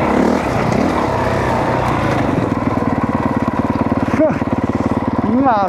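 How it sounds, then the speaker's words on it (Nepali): A 2022 Honda CRF 450R dirt bike engine runs loud and close with a rapid pulsing throb that surges and revs as it is ridden, and voices are heard briefly. "कस्तो क्विक छ बाइक"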